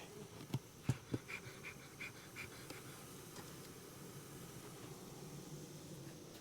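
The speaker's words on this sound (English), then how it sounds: "Oh, we got a full box of bees." A swarm of honey bees being installed in a hive box gives off a faint, steady buzzing hum, with a few soft knocks and handling bumps near the start and no talking.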